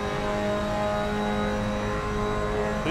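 Mazda race car engine in Assetto Corsa holding a steady, loud revving drone with fixed tonal whine, rising slightly at the very end, with no voices.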